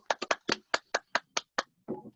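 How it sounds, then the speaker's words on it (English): A few people clap for Andrew Johnson at a team meeting, about nine sharp, separate claps in an uneven rhythm, fairly close, then a short muffled rustle. "round of applause for Andrew Johnson"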